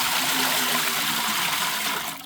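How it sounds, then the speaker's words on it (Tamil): Water gushes steadily and loudly into a cooking pot for Mysore bisi bele bath, a dense continuous pour that tapers off at the very end, with no talking. "மூணு மடங்கு தண்ணி சேர்க்கணும்"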